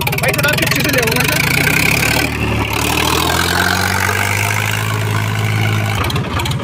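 An Eicher 551 tractor engine runs hard at high RPM, its loud, close drone climbing in pitch early on before holding a steady, sustained roar.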